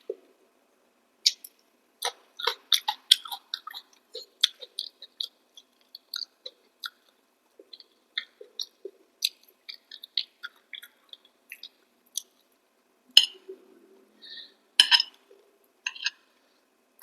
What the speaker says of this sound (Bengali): কতদিন বাদে খাচ্ছি চাউমিন।